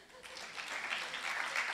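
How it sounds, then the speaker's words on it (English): Audience applause at a political candidates' forum: a steady patter of many hands that swells slightly and holds for under two seconds, moderately distant and fairly soft. "A round of applause, please."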